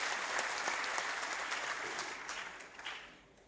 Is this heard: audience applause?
yes